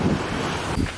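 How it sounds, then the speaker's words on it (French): Strong wind gusts buffet the microphone on a steep island hilltop, a steady broad roar with heavier low rumbling bursts near the start and end, loud and close, with no talking. "il y a énormément de vent"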